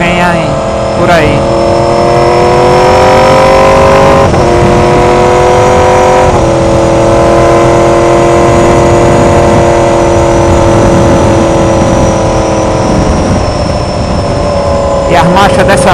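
A 2016 Yamaha R1 sport motorcycle with a quickshifter accelerates hard, its engine note climbing steadily and loud through long gears with brief shift breaks, under a rider's voice.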